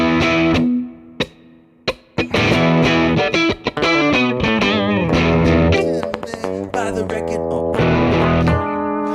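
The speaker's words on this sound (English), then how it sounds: "It's kind of like the turn it on, turn it up, turn it loose thing, but with heavy distortion." Electric guitar with heavy distortion, played loud in a live 80s cover band setting, with sustained chords and quick choppy bursts that start and stop over about nine seconds.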